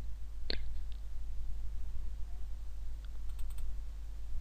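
A computer mouse is double-clicked during logo design work in CorelDraw, giving a sharp click and a few quieter taps over a steady electrical hum.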